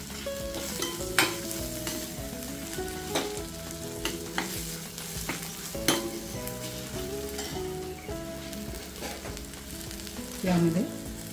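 Tomato and masala sautéing in oil over low heat, heard as a steady close sizzle broken by regular clanks and scrapes of a spoon against the pan, with a few louder knocks.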